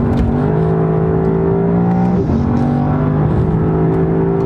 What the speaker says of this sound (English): Let's listen to that V8 again.